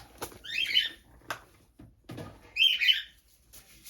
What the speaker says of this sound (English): I do have to apologise for the birds because sometimes they're just